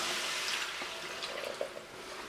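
Chicken stock, two cups, poured into a pan for a chicken and potato fricassee, making a soft, steady liquid splash and trickle, quiet and close, with no talking.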